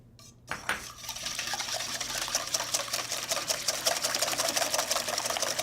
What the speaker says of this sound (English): In a separate bowl, whip the egg whites until they form soft peaks.